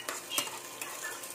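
An egg goes into a pan of sautéed CDO corned beef, giving a steady close sizzle of frying with a few light stirring scrapes, no voices.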